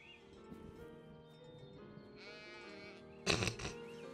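A cartoon goat or ram gives a short, loud bleat near the end, after a stretch of soft animated soundtrack with no talking.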